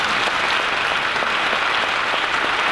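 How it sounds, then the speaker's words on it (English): An audience at a community forum on race applauds steadily, a dense, sustained wash of clapping from many hands with no break. "Let's extend Bernie a nice round of applause."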